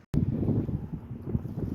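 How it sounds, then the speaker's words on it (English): Strong wind buffets the microphone outdoors beside a storage unit on a snowy day, a steady low roar with gusty swells that starts abruptly and holds throughout, no voices. "it's freaking windy out"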